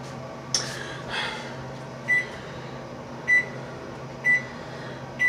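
A microwave oven switched on in a home kitchen, a knock and a rustle followed by four short, evenly spaced high beeps close by, with a low appliance hum underneath.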